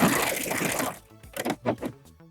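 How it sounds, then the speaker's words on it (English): A serger overlocks the edge of sweater knit fabric, running in a loud, close, continuous mechanical whir for about a second before stopping, followed by a few softer clicks and handling sounds. "And now I'm going to serge off."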